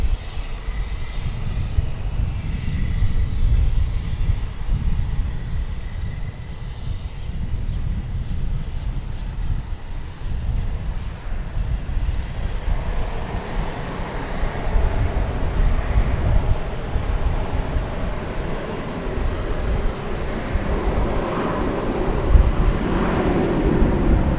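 An American Airlines Airbus A321 takes off, its jet engines building from a distant rumble to a louder, broad roar that stays strong through the second half, with some wind buffeting the microphone.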